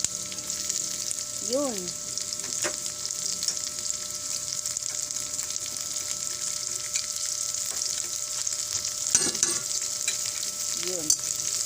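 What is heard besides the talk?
shrimp paste (alamang) sautéing in a pan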